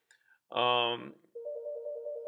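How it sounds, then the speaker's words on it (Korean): A telephone rings during an online class, with a short burst of tonal electronic ringing followed by a steady sustained tone, the room otherwise quiet. "전화가 왔네요."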